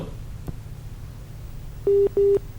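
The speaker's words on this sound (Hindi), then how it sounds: "लखनऊ से संदीप जी फोन लाइन पर है।" A phone line connects for a call-in caller on a Hindi farming advice broadcast: two short steady tones sound in quick succession near the end, over quiet background hiss, with no talking.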